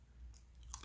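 Crunchy spicy nacho cheese Doritos chips, thicker than regular ones, being chewed up close, with soft crunching bites that grow sharper toward the end.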